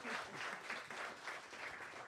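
An audience applauds a jazz performer at a NOCCA music session, a steady, dense patter of many hands clapping at moderate distance, sustained evenly without a break.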